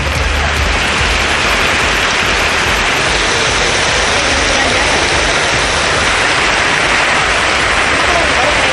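Heavy summer rain in a sudden downpour over towns in Tamil Nadu: a loud, dense, continuous hiss and roar with no breaks, with a voice speaking over it.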